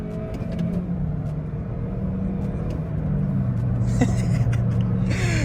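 A small manual car accelerates slowly in first gear, its engine a steady droning rumble heard from inside the cabin with a rising note and some road noise near the end.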